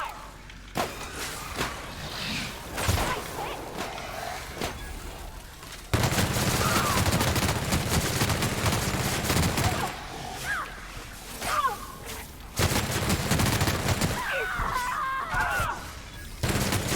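Repeated bursts of gunfire rattle through a firefight in the sci-fi RPG The Outer Worlds, with sharp cracks and clustered volleys separated by quieter gaps of ambient game sound.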